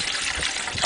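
Water gushes in a short, steady pour for dogs outdoors in the southern New Mexico desert, close and alone.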